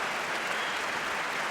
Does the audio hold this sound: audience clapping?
yes